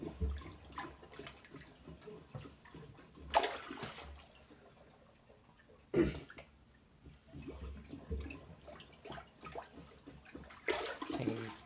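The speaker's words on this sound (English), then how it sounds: "We're gonna plunge all the water down." Water being plunged down a toilet bowl with the supply turned off during a toilet replacement, heard as repeated splashy gurgling surges with a few sharp louder pushes, fairly close and without talk.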